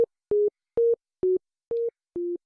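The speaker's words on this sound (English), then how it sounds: "So that's a sine wave." A synthesizer plays a plain sine wave as six short, clean, evenly spaced tones, alternating slightly in pitch, each starting and stopping abruptly against silence.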